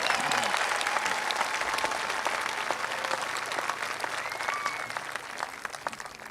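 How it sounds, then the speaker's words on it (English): Sustained crowd applause fills a 2019 Peninsula College commencement ceremony as the audience claps for the graduation speakers. The clapping is a dense, even wash that holds throughout and fades only slightly near the end. "Let's give one more round of applause for our graduation speakers."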